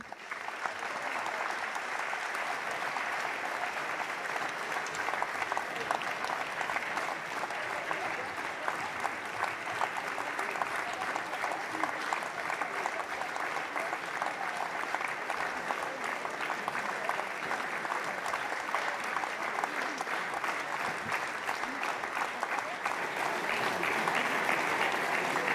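A large audience claps continuously to welcome François Bayrou at the opening of a political gathering. The applause is dense and steady, holds at an even level throughout and is not broken by speech.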